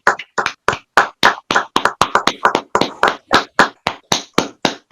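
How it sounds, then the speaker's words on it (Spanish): Applause from an audience following a conference talk, heard as a run of loud, sharp, evenly spaced claps close to the microphone, more like a few people clapping in rhythm than a dense ovation, with no speech over it. "darle un aplauso"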